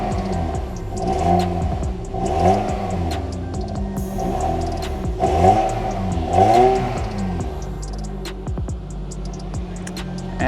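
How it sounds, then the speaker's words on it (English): A car engine revs repeatedly at a car auction, rising and falling in several loud, close bursts of acceleration with mechanical clatter, alone without talk. "Let's give it a rev. See what it sounds like."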